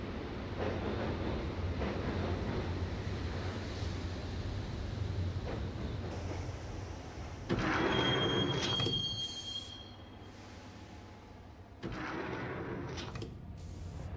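A subway train ride toward Roscoe Street Station in Max Payne, a continuous rumble of rolling wheels with a sharp, sustained metallic wheel squeal midway and short surges of clatter, close and loud with no voices.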